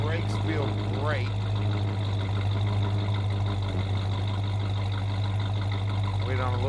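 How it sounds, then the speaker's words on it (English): A 1967 Pontiac GTO with a four-barrel carburetor idles steadily, its engine and exhaust giving a continuous low rumble that stays loud and close throughout, with brief bird-like chirps and someone talking over it. "Listen to that exhaust again. I love the sound of that four barrel kicking in too."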